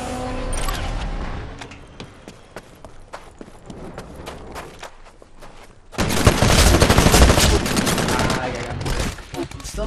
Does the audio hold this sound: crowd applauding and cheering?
no